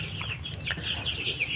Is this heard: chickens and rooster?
yes